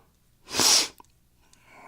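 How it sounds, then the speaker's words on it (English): A single loud, breathy sniff or sneeze-like burst bursts out close by, then fades into quiet with a faint click. "Sorry about all the sniffles here."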